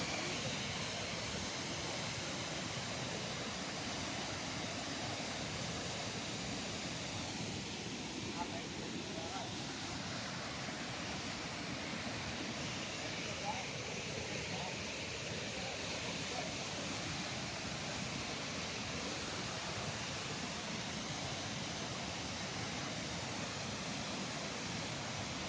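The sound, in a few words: Rajdari waterfall near Varanasi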